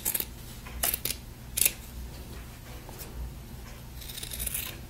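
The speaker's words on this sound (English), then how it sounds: "we're going to cut from the inside another 1/4 inch seam allowance" Scissors cut fabric along a quarter-inch seam allowance during a square-seam sewing lesson, giving a few faint, quick snips and rustles in a quiet room with no talk.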